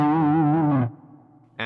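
Electric guitar through a Zoom GFX 707 multi-effects unit on its power drive distortion, a loud sustained chord ringing with wavering chorus-like shimmer that cuts off abruptly, leaving a faint residual hum before another strum starts.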